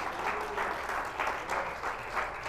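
A church congregation gives a strong round of applause, steady clapping from many hands in a room with slight surges in intensity, no voices over it.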